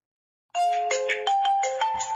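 Incoming-call ringtone from a Maxcom MM740 phone, a loud, clear electronic melody of stepped tones that starts abruptly and plays on without talk.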